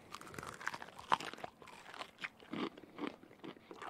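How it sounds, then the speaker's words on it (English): Someone bites and chews extra-crispy Taco Bell chicken wings with Mexi Ranch, giving quiet, close-up crunches in irregular bursts. "Okay, eating sounds on the way."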